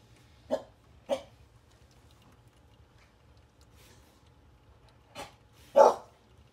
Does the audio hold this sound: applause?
no